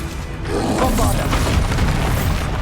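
A Bombarda spell blast in Hogwarts Legacy, a short booming explosion with a rumbling, crackling tail that lingers for a couple of seconds in the game's combat.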